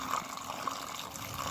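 Fresh water runs steadily into a goose water tub as it is filled, a continuous near trickle and splash heard alone without talk.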